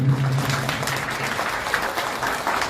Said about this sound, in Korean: 두 분에게 큰 박수 부탁드리겠습니다